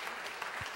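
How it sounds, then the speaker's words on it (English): Quiet, steady applause from a church audience at a Sunday School Christmas play, continuous clapping heard from a distance with a soft thump near the end. "can we give another round of applause to these awesome actors"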